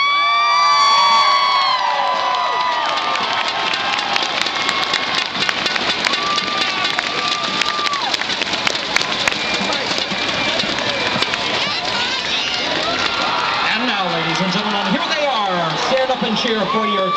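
A stadium crowd at a college football gameday cheers and roars for the East Carolina University Marching Pirates band, a broad sustained wash of shouting and whoops with an announcer's voice over the top.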